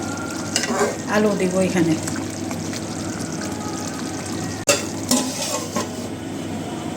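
Chicken curry being stirred and fried in a pan, a steady sizzle with scraping and clinks of a spoon against the pot, under someone speaking.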